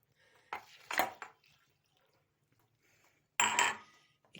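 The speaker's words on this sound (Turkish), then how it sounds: "Şimdi suyunu koyacağım." Water poured from a glass into a small pot of currants in a home kitchen, in two splashing bursts separated by a quiet pause, close and fairly loud.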